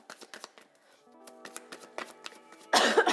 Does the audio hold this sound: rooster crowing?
no